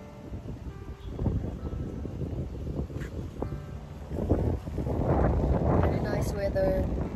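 Gusty wind buffets the microphone outdoors, a low rumbling roar that swells louder toward the end, with occasional rustling and brief sounds over it.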